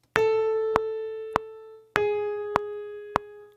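One pitched note sustains for a full bar of 3/4 time, then a second one follows. Sharp clicks mark the second and third beats of each bar, with no voices.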